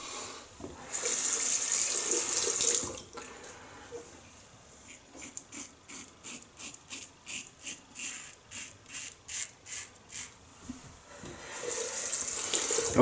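A tap runs loudly, then stops while a Wilkinson Sword Sticky razor is rinsed and tapped with rapid rhythmic swishing and knocks, before the water runs again.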